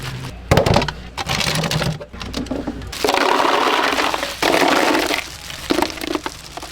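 A bag of ice is handled and crunched at close range: sharp crackling and crushing bursts come in irregular clusters with short pauses between them.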